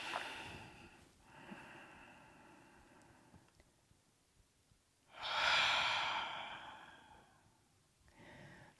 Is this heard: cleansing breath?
yes